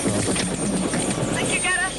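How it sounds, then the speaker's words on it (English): Helicopter taking off during a 1980s treasure-hunt adventure in Israel, a steady loud rotor chop filling the whole stretch, with a voice speaking over it. "get into the helicopter and take off"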